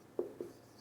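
Marker or chalk on a classroom board while a chemical formula for a carboxylic acid is written: two soft, quick strokes, faint and close, with no talk over them.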